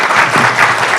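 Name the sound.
audience applause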